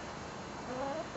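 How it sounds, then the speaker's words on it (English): Chickens cluck softly in the background, a few faint calls over low ambient noise. "pet chickens."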